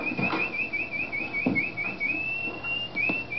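A person whistles a wavering, trilling tone that rises into a long steady note beside a mare, with some soft background shuffling and thuds.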